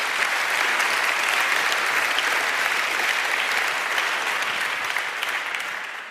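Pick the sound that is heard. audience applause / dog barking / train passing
audience applause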